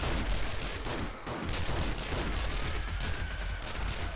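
Gunfire rattles in the 7 Days To Die video game during a zombie fight, a loud dense burst of rapid shots that breaks briefly and then resumes as a steady stream.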